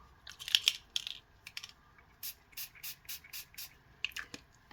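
Weathered wood colour spray is spritzed onto card through a stencil in a quiet room, a series of short close hissing bursts in an irregular rhythm, with soft taps and clicks between them.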